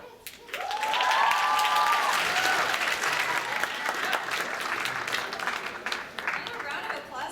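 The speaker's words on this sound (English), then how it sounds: "And a round of applause for Miss Burdick's rhythm." A school audience at a student writers' week event claps steadily and loudly for about seven seconds, with cheering and a few voices mixed into the dense applause.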